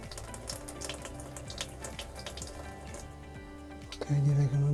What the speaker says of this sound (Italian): Adesso ho aperto l'acqua fredda.